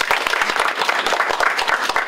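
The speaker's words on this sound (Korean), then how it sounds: "이분들이 서로 함께 힘을 내서 오늘 이야기를 나눌 수 있도록 좀 힘찬 박수를 부탁드립니다" Vigorous, hearty applause from an audience at a Korean public forum, a dense continuous patter of many hands clapping close by for about two seconds with no talk.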